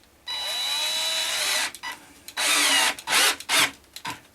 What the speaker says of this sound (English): these screws with the right head on the screwdriver bit should go straight in